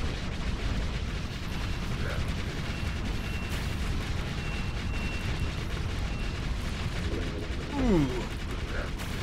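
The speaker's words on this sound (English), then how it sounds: "I'm just looking at the weapons firing here." Spaceship weapons fire in the space combat game StarSector as a dense, rumbling barrage of blasts and booms, steady throughout, with a few brief tonal sweeps and pings near the end.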